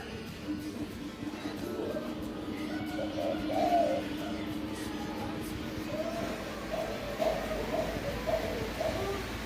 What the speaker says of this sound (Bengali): এই দেখো, আমাদের ঘরের পেছনে দুটো পায়রা